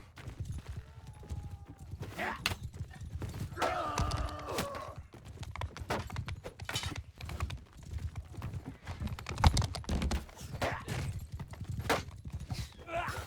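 Rhythmic hoofbeats clip-clop steadily throughout from horses in Mount & Blade II: Bannerlord, mixed with game-like ambient sounds and a brief tonal chime partway through.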